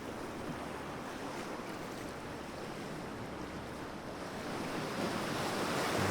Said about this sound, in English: all the intricate sounds you can pick up just by listening to these waves to the water